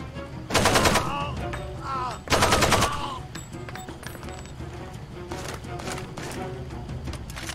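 Machine gun fire in the video game Far Cry 2 rips out in two loud, rapid bursts, each under a second long, followed by a lower wash of game background noise.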